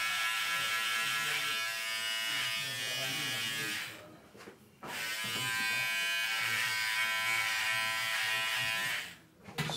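Electric hair clippers buzz steadily while trimming a man's hair to fit a non-surgical hair replacement system, running nearly continuously with two brief pauses, loud and close.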